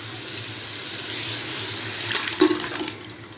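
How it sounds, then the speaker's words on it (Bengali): Boiled potatoes and their cooking water are poured into a pot for pomfret curry: a short rushing pour that ends in a few close splashes and clunks. "এবার আমরা সিদ্ধ করা আলুটা দিয়ে দেবো, আর সিদ্ধ করা আলুর সঙ্গে যে জলটা আছে সেটাও দিয়ে দেবো একসঙ্গে।"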